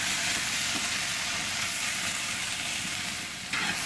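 Brussels sprouts sizzle and hiss steadily in a hot skillet on an outdoor grill as they are stirred, a continuous close, fairly loud frying noise with a brief dip near the end.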